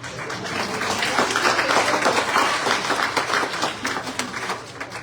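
Sustained audience applause at a Goochland Democrats town hall, a dense wash of many hands clapping that holds steady for about five seconds before thinning slightly toward the end.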